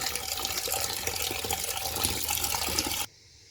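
Cold water is poured over drained broccoli as a steady, rushing splash that runs for about three seconds, then cuts off abruptly to near silence.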